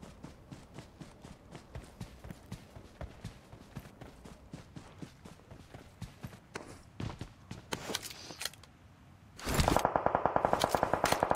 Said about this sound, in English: Oh, so much shooting already.